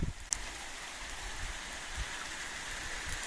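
Rain falls steadily outdoors at a countryside dacha on a cold day, a soft even hiss with faint scattered drop patters, fairly quiet and unbroken, with no talking.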